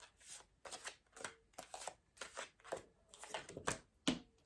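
Tarot cards being shuffled in quick riffling bursts, a steady series of papery flutters and snaps, close and fairly soft, with no talking.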